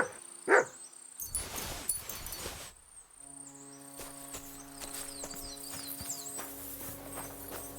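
Mutt the dog in Kingdom Come: Deliverance 2 gives a sharp close bark, followed by footsteps and hoof clops on a roadside, with a low ambient hum settling in, no speech.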